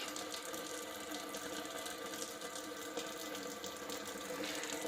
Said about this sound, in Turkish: Sıcak suyumuzu boşaltıyoruz.